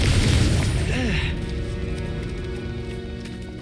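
A fire-blasting Confringo spell explodes in the Hogwarts Legacy video game, a loud booming burst at the start that rumbles and fades into a sustained low roar with game music underneath.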